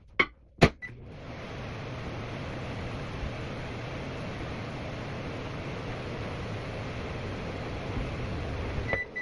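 A microwave oven hums steadily while melting butter for homemade pigs in a blanket, preceded by a couple of sharp clicks or clinks as it starts; the low drone runs evenly to the end.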